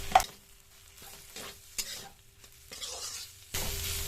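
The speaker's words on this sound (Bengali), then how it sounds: "হলুদ আর লঙ্কার গুঁড়োটা দিয়ে আলুটা আমি বেশ মিনিট 2 আর একটু ভেজে নিয়েছি।" Potatoes fry with turmeric and chili powder in a pan, quiet intermittent sizzling bursts and spatula scrapes separated by near-silent gaps, close and without voices.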